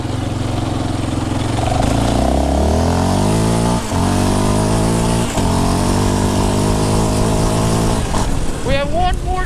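A 2022 Yamaha Raptor 700R SE ATV engine while riding, running loud and close as it revs up through the gears with short gaps at each shift, then drops off and whines near the end; a voice talks over it.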